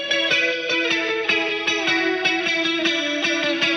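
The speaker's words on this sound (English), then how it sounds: "in the guitar section, we have this incredibly important and iconic melody line, which is literally just a descending and ascending scale." Electric guitar picks out a descending then ascending scale melody, a bright clean chorus-laden tone, evenly plucked notes over steady backing with drums, loud and alone.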